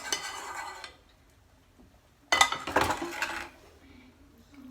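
A spoon stirs vegan macaroni and cheese in a dish, giving two bursts of soft scraping and clinking with a quiet pause between them.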